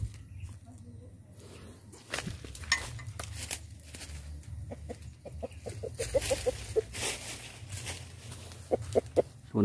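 Rooster clucking close by in a run of short repeated clucks and quick calls that build in rhythm toward the end, over a low background hum with some handling noise.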